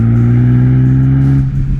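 A Jaguar F-Type P300 engine revs above 3000 RPM, a loud, steady, close-up drone with a smooth, rich tone holding throughout.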